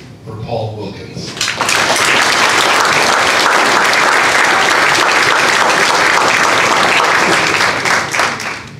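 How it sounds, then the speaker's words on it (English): Sustained audience applause at a Vietnam Era veterans pinning ceremony swells after a brief quieter opening and holds loud and steady for several seconds, with a few voices faintly mixed into the clapping. "Please give a round of applause for Paul Wilkins."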